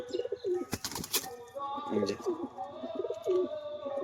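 Two pigeons kept for sale, a mated pair, coo in repeated low throaty phrases close by, with a brief burst of wing flapping or rustling partway through.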